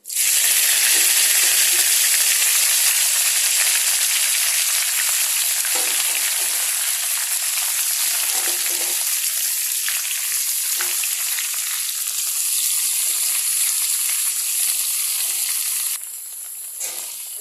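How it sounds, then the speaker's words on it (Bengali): Vegetables for a labra mixed-vegetable curry fry in hot oil with a loud, steady, close hiss and sizzle that runs continuously and drops abruptly near the end. "এখন আস্তে আস্তে আমি এই সবজিগুলো ছাড়বো।"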